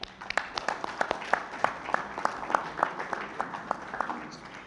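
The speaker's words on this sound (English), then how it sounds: "Please join me in giving our host a big round of applause." An audience at the 42nd Association of Pacific Islands Legislatures General Assembly gives a brief round of applause, individual claps distinct and steady, moderately distant and fairly quiet in the hall.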